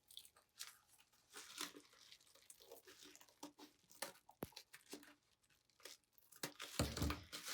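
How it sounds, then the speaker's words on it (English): A blade cuts apart a small bubble wrap envelope along its seams, with soft crinkling, tearing and crackling plastic in an irregular, close but quiet stream that swells louder near the end. "bubble wrap, I slice it along the seam edges as well."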